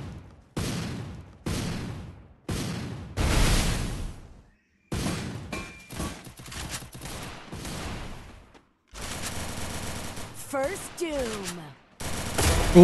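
Free Fire video game gunfire comes in sharp bursts of rapid automatic shots separated by short silences, loud and close, with sweeping tonal game effects in the later part.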